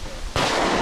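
A single shotgun blast fired at a clay target at a shooting ground, a sudden loud boom that cuts in partway and rings on with a broad rumbling tail.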